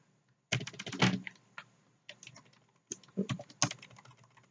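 Typing on a computer keyboard while entering text in Microsoft Word: close, crisp keystroke clatter in two quick bursts with short pauses between, no voices.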